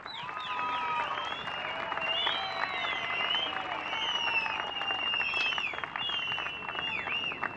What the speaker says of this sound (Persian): همه با هم یک جا تیم ملی فوتبال افغانستان و فوتسال افغانستان را تشویق کنین.